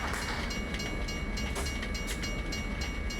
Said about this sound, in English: the train just came past